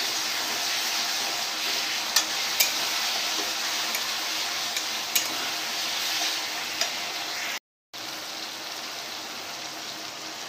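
Onion, tomato and ginger garlic paste sizzle in a pan for paneer curry, making a dense, even crackling hiss with a few sharp pops. The sizzle drops out for a moment before resuming, with no one speaking.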